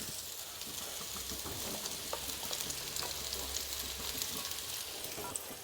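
Mustard and fenugreek seeds crackle in hot oil in a kadai over a very low gas flame, the first step of an instant raw mango pickle: a steady, close sizzle with scattered small pops throughout.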